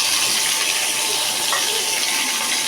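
Four medium onions and green chilies hit hot oil in a pan for a radish curry, giving a loud, continuous sizzling hiss that fills the whole moment without pause.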